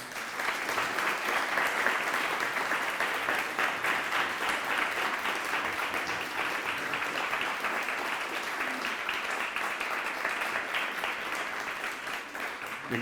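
Sustained audience applause fills a room at a talk by a US ambassador, dense and steady clapping from many hands with no speech over it.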